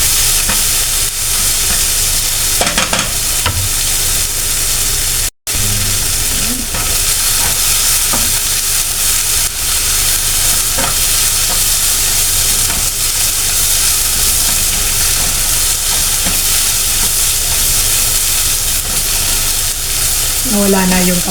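Dried fish with malunggay sizzles loudly and steadily in a pan after spicy sauce goes in, a constant close crackle and hiss with occasional stirring clatter and one brief dropout.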